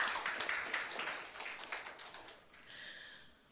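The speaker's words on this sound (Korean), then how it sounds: "박수 한번 부탁드립니다." Audience applause at a residents' public hearing on Seoul eco-tourism and the Dorimcheon stream, a dense burst of clapping in a hall that gradually thins and fades toward the end.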